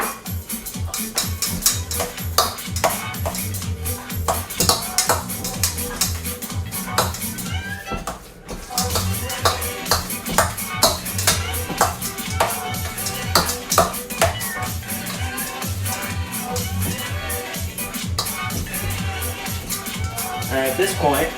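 Strained pimentos are mixed into pimiento cheese, with a spoon clinking and scraping against a bowl in a busy, continuous rhythm. A person talks over the sound and background music plays.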